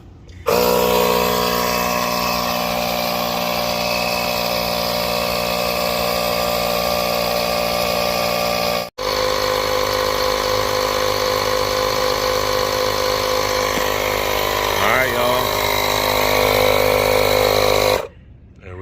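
A steady, loud mechanical drone from an air compressor runs continuously while a repaired steel wheel's tire is inflated, with a brief cut near the middle.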